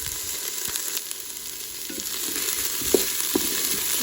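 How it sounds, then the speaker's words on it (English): Minced garlic fries in a Ninja Foodi pot with a steady, close hiss and crackle, and a couple of soft stirring knocks near the end, with no talking. "So now I just took garlic clove and I minced that up, and I'm going to add that in."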